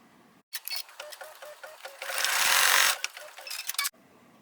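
An embroidery machine stitches a tree bucket placement line in red thread, with rapid rhythmic needle strikes close by that swell into a denser whir mid-run before stopping abruptly.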